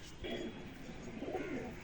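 A soft, low pigeon coo rolls on continuously, faint and close, with a light hiss of background noise.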